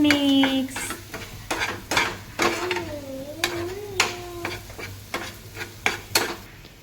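Spoon stirring coriander-cumin powder and salt into food in a pan, a series of sharp scraping clinks against the metal over a faint sizzle, close and fairly loud, with a brief tonal hum from the stove in between.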